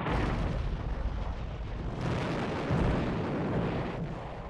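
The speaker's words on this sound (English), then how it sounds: "The British open fire." British naval guns fire on French warships during the Second World War, a loud, continuous roar of overlapping heavy booms and rumbling blasts with no voices.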